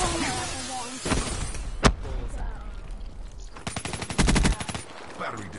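Video game shootout with sharp gunshots and rapid machine-gun bursts, including a loud single crack and a dense automatic volley, heard close and mixed with other game sounds and voices.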